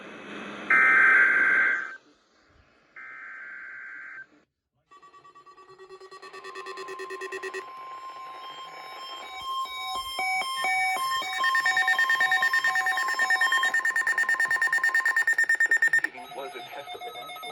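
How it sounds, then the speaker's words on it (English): A National Weather Service warning alarm tone test sounds as a loud, steady electronic tone running for many seconds after short earlier beeps, with a broadcast voice near the start. "Was a test of the National Weather Service warning alarm tone."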